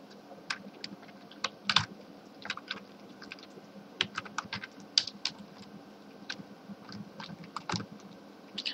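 Code is typed on a computer keyboard in irregular bursts of sharp, close clicks and key taps, with brief pauses between runs and no talking.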